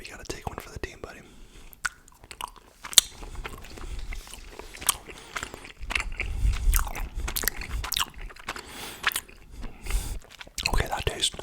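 Close, crisp bites and wet chewing of a chewy SpongeBob house-shaped gummy candy made with fruit juice concentrates and tasting of pineapple, with soft whispery mouth sounds throughout and no talking.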